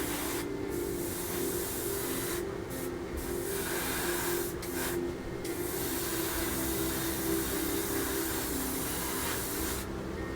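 Spray paint hisses steadily onto a part for a 1/24 Porsche 911 GT3 model kit, a loud, continuous close-up spray with brief gaps in the hiss as the nozzle is released.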